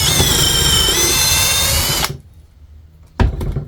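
A power drill fitted with a 1/4 inch bit bores through a dowel jig, a loud close whine for two seconds, a brief pause, then the motor revs up again at the end.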